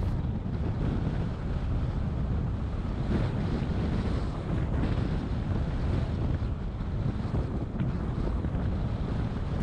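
Steady, heavy wind buffets a microphone on a bicycle during a time trial, with a constant low roar and rushing hiss throughout, no voices.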